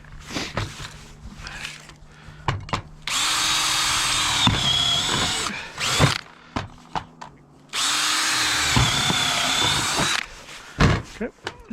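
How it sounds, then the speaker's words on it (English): A power drill whirs in two sustained bursts drilling holes during a Starlink installation, separated by clunks and handling noises, with a brief murmur of voices between. "how about I drill those holes real quick?"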